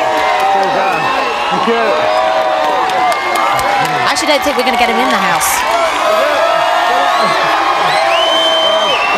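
A live studio crowd at a celebrity reality show launch cheers, whoops and claps continuously and loudly, with people talking over the steady roar.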